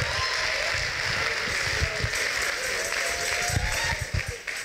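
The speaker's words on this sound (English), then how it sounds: "Let's give our people a big round of applause." A comedy show audience applauds in a steady wash of clapping, with a voice heard over it and crowd noise rising and falling near the end.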